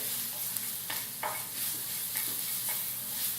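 Garlic sizzling in hot oil in a pan while making a South Indian potato fry, with a steady frying hiss and a few scraping stirs, close and without talk.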